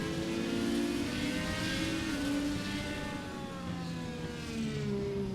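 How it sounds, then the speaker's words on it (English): Race car engine doing burnouts at the start-finish line in the iRacing video game, an IndyCar-style car at Kansas, a steady loud revving drone with wavering pitch and no voices. "John Downing is going to get to do burnouts at the start-finish line."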